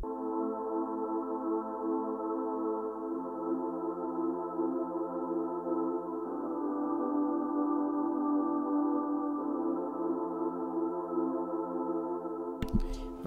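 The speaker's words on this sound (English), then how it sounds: "I layered the main chords with another pad called the Black and Blue, also from the Loophole bank" Black and Blue synth pad from the Loophole bank holds sustained layered chords, changing smoothly every few seconds, soft and steady with no talk, then a brief hit at the end.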